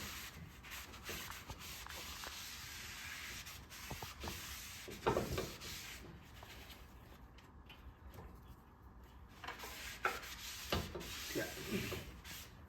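Rubbing and wiping of a brake surface on a 2021 Subaru Ascent's rear brakes during a pad and rotor job, a soft, steady scrubbing friction that rises in short strokes, close and moderately quiet.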